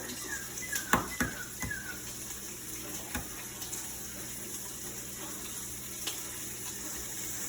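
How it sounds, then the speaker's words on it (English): Bacon frying in a pan gives off a steady hiss with scattered sharp pops and crackles, a few louder spits early on, heard close with no talking. "Ow, I'm getting popped by the bacon."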